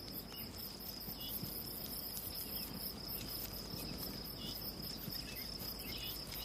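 Steady, continuous cricket chirping at a quiet level, a dense high-pitched trill running unbroken throughout with no voices.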